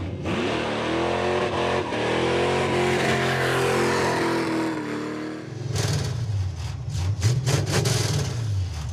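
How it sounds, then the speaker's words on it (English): A V8 engine in a 1971 Plymouth Duster revs hard and steadily for several seconds during a burnout, then drops and surges in rough, uneven bursts, loud and close. "Dulcich, do we build cars that won't do a burnout?"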